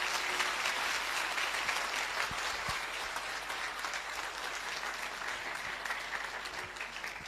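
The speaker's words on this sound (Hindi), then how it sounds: "आइए प्रभु के लिए अच्छी ताली बजाएंगे मिलके।" A congregation at a Christian church service claps together in praise, a steady, dense wash of applause filling the whole stretch without a break.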